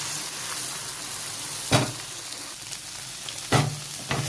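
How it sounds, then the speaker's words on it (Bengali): Egg bhujia with chopped green chilli fries in a pan, a continuous close sizzle broken by two sharp scraping stirs of the spatula, with no voices. "এখানে ডিম ভুজিয়াটা হচ্ছে, দুটো কাঁচা লঙ্কা কুচি দিয়ে দিয়েছিলাম।"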